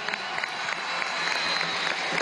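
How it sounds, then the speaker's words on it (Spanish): Crowd applause at a political rally with thousands of young people in Caracas' Poliedro arena, a dense steady wash of clapping at moderate distance with no clear gaps. "Un aplauso al Zulia"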